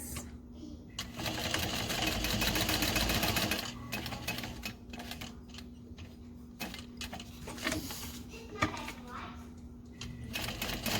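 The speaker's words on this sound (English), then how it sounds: "stitch around using the 1/4 inch seam allowance" A sewing machine stitches a quarter-inch seam around a backpack panel, a sustained close run of rapid mechanical chatter that later breaks into lighter intermittent clicks and taps, with a steady motor hum beneath.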